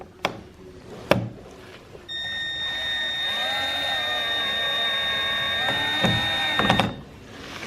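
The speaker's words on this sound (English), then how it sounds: "now we're just going to screw them in" A power drill driving screws into mud flaps on a 2021 Ford Bronco, a steady high whine that starts after a couple of knocks, runs for about five seconds and stops with a final clunk.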